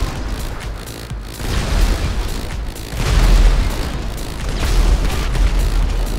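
Loud booming blasts in the video game Brawl, several heavy detonations rolling into one another over a steady low rumble, with no talking.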